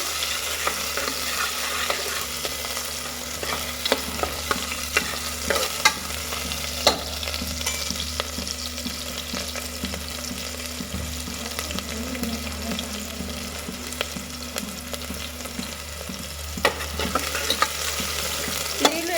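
Onions fry in hot oil in a pan for Mangalore-style fish sambar, giving a continuous close sizzle with scattered stirring clatters and scrapes throughout, no talk.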